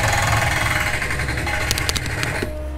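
Mini excavator and construction machinery rumble steadily in the background near a garage, a continuous engine drone with some irregular clanking toward the end.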